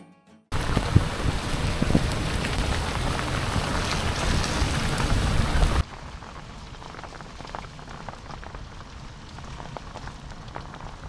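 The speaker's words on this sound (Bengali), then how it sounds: "এখানে ঢোকার পরে এমন বৃষ্টি নামলো আসলে অটো থেকে বসে এই বৃষ্টি এনজয় করা ছাড়া আর কোনো উপায় ছিল না" Heavy rain pours down, heard from inside an auto-rickshaw near tea gardens: a loud, dense roar of drops for several seconds that suddenly drops to a softer, steady patter.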